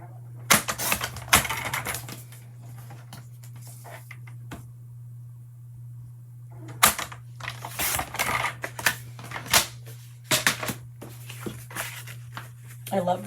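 Paper is trimmed for a handmade greeting card, with crisp clicks and short slicing scrapes in clustered bursts separated by quiet pauses. The sounds are close, with a faint steady hum underneath.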